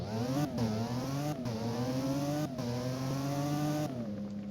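A Lotus 211 sports car engine in a driving video game revs up and down through several gear shifts, a smooth synthetic whine rising in pitch with short dips between gears.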